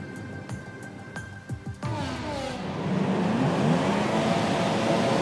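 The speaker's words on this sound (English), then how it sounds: "As we rev up the engines for my home race and get underway" Formula 1 engines in the F1 2017 video game build from sharp blips into a loud, rising roar as the grid pulls away at the start of the Spanish race, and many cars whine together.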